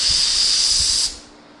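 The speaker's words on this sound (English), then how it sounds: "show you what happens when you don't have any filter and you spray ink." A pneumatic blowgun sprays ink through an airline with no filter, giving a loud, steady hiss of air that lasts about a second, then cuts off abruptly, leaving faint background noise.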